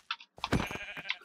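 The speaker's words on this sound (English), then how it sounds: "you annoying little sheep" Minecraft sheep bleat in a video game: a short high call, then a longer wavering bleat and a final brief cry, close and clear with no talk.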